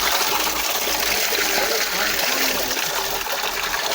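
Water pours continuously from the Gaumukh spring waterfall in Dang district, a steady, loud, broadband rush with no pauses.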